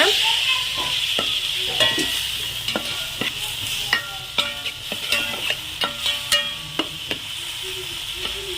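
Tomatoes sizzle and hiss in a hot pan for fish curry while a utensil stirs and scrapes against the metal in irregular clinks.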